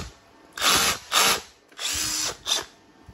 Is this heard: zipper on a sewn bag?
no